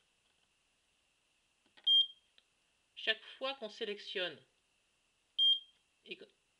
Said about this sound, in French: on entend un bip pour dire que c'est validé.